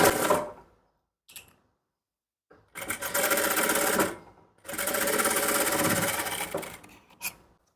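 A sewing machine stitching a blouse runs in bursts, a quiet short whir, then two longer loud runs of rapid stitching with pauses between and a brief final spurt.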